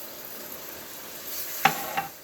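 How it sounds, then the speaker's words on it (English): A cup of red wine poured into a pan of sizzling vegetables for chicken cacciatore, a steady close frying hiss with a couple of sharp stirring scrapes near the end. "I'm gonna add 1 cup of wine,"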